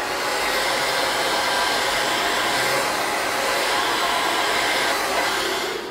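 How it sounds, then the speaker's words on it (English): Hair dryer blowing on hair, a loud, constant airy roar held steadily and close throughout. "And then blow dry it a little bit."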